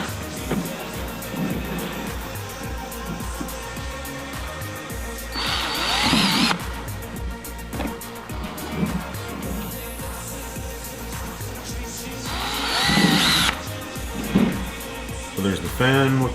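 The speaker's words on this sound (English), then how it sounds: "Now I'm going to drill some holes for zip ties and all these cables here." Two bursts of a power drill whirring, each lasting about a second, with someone talking steadily throughout and light clattering between them.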